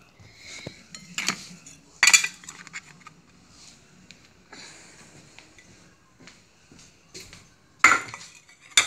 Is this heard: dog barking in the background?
no